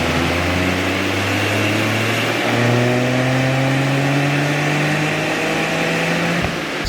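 A Toyota GR Corolla engine revs hard through a full-throttle pull, its pitch climbing steadily and loudly before it cuts off near the end.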